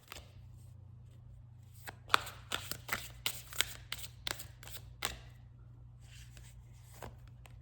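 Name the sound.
shuffling a tarot card deck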